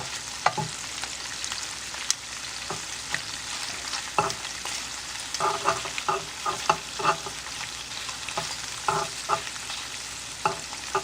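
Shrimp stirred into a sizzling rice and garlic mixture in a pan, steady close frying hiss with repeated scraping and stirring knocks throughout.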